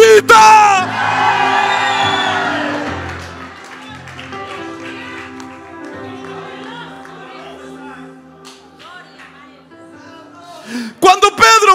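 A church congregation at a Pentecostal service shouts in response. A loud burst of yelling and whooping opens the passage, then fades into murmuring crowd noise, and another short outburst of shouts comes near the end.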